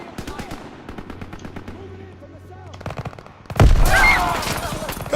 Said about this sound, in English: Gunfire this way. Too risky.